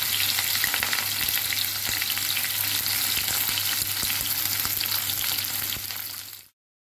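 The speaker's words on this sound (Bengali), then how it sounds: "একটু কালো জিরে দিয়ে দিলাম, একটু পেঁয়াজ দিয়ে দিলাম, আর ছোটো করা রসুন দিয়ে দিলাম।" Black cumin, chopped onion and minced garlic sizzle steadily in a hot pan with oil, a dense continuous crackle with small stirring ticks, close and alone until it stops abruptly near the end.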